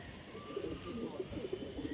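Pigeons coo softly in a short series of low, rounded calls, fairly faint against a quiet background.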